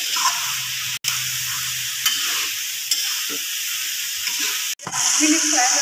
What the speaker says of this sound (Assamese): এইখিনি মই এতিয়া লৰাই দিছোঁ